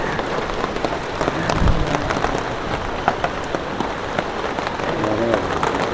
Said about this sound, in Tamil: மழை ரொம்ப அதிகமாக